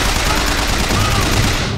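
Rapid automatic gunfire in BioShock Infinite, a dense, loud burst of shots fired continuously at close range for under two seconds.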